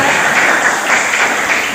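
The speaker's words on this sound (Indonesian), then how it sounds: "Iya, tepuk tangan." A classroom of students gives a short, dense burst of applause that is loud and close and fills the room for under two seconds.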